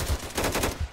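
Rapid gunfire in a zombie-apocalypse video game, a quick burst of several sharp shots in close succession, moderately loud, with no talking.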